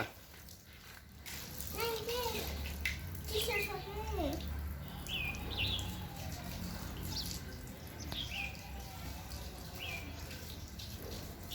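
A tap runs steadily into a bathing area during a child's bath, a soft continuous splashing hiss, while an adult and someone talk over it and small rattles sound.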